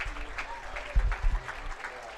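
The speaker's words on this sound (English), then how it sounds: "Let's give another round of applause for Urban Cluster American Legion Post 436 and the" Crowd applause rises from the stands at a high school football game, a thin, distant patter of clapping with a few louder thumps, broken by wind or handling noise near the microphone.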